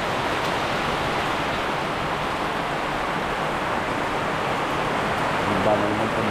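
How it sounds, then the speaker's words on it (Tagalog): Strengthening typhoon wind roars through banana trees alongside rain, a continuous loud rushing wash with no break, a brief murmur of a voice surfacing near the end. "unti-unti na rin lumalakas yung hangin"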